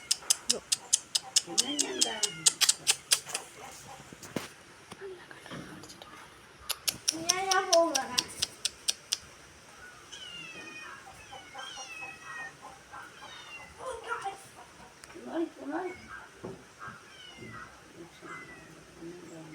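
Several cats meow repeatedly, some close and insistent, while a person talks intermittently in the background.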